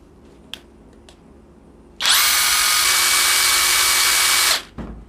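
A Mollar CIW20980 impact wrench runs in one loud, steady high-pitched whir for about two and a half seconds, then spins down, after a couple of faint clicks in a quiet room.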